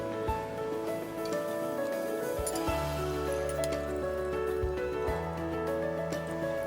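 Jal jeera, a spiced cumin drink made with cold water, is poured into a glass, giving a steady liquid trickle and fill sound with small splashes, close and alone.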